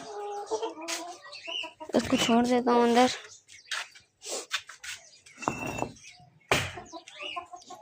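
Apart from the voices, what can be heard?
chickens clucking in a village yard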